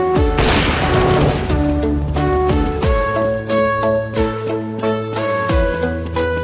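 Gunfire from an L96A1 sniper rifle in Counter-Strike 1.6, loud booming shots mixed with a rapid series of crisp metallic game sound effects and clicks, played close and loud with no talking.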